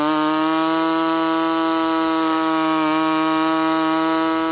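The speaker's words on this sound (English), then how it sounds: "So to get this trimmed out, I'm just going to use this little air saw." A small pneumatic air saw cutting a plastic fascia on a 2015 Ford Explorer, a loud, steady high-pitched buzzing whine held throughout without talk.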